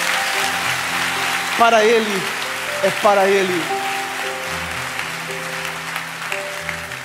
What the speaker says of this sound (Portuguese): Então aplauda Jesus bem forte.